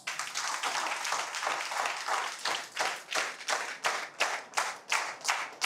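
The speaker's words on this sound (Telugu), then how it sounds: "సన్మానం ఫస్ట్ చప్పట్లతో మొదలు పెడదాం" A crowd at a gathering in a Sai mandir claps to honour panchayat workers, a steady, fairly rhythmic round of applause from many hands that carries on evenly throughout, with no voices over it.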